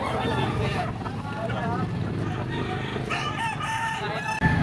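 Gamefowl stags offered by a seller at a Saturday gathering in Lipa, Batangas crow repeatedly among the birds, while steady background talk and crowd noise run underneath.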